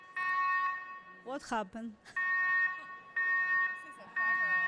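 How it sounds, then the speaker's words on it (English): An office alarm blares in repeated steady electronic tones, loud and continuous with brief breaks, while a person speaks over it in the middle. "Hopefully it's a false alarm."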